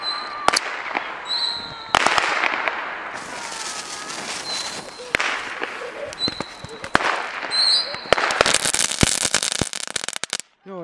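New Year's fireworks and firecrackers going off outdoors, a long series of sharp bangs and crackling bursts, some near and loud, others distant, with whistling rockets between them.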